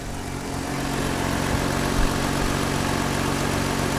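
A Nissan Skyline HR32 engine idles steadily after being started, with a continuous low rumble that stays even and smooth throughout, close by and with no talking.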